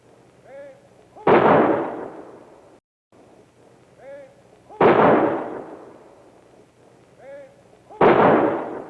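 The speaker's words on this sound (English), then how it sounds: "7 riflemen fire 3 rifle volleys each" Ceremonial rifle volleys fired by seven riflemen at a military funeral at Arlington National Cemetery: three sharp, loud cracks spaced a few seconds apart, each ringing out and decaying, with quiet voices between them.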